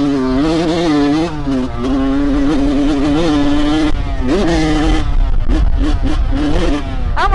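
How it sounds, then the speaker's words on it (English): A dirt bike engine revs hard while being ridden on wet ground, a loud continuous buzzing drone whose pitch climbs, dips and surges with throttle changes, close to the rider and filling the whole stretch. "my bike has been sounding crispy lately"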